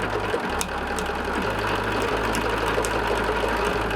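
A sewing machine fitted with an open toe foot runs steadily while stitching down the centre of a ribbon, a continuous close mechanical hum with a low motor drone and no talking.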